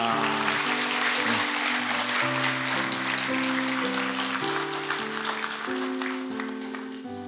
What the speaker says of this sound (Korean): 인사할 때 격려 박수, 환영 박수 부탁합니다.